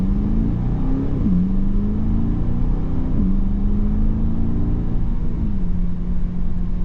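A 2023 Aston Martin DBX pulls away from a standstill, its engine rumbling loudly and rising in pitch, with brief dips at each of several gear changes; no talking.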